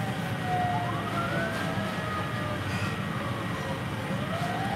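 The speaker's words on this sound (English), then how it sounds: "It sounds like fire sirens." Fire engine sirens wail and sweep up and down, steady and somewhat distant, over a constant rumble of background noise.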